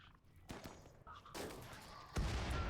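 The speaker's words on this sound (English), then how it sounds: "You probably start shooting right about now." Minigun fire in the colony game Rimworld, coming in several harsh bursts that build and grow louder toward the end.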